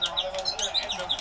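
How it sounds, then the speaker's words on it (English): Cartoonish bird chirps in a wrestling video game after a referee is knocked out, a rapid series of high tweets repeating through the moment. "That's playing bird noises."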